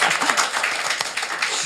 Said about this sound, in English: everybody, speed applause for Shelley and the report.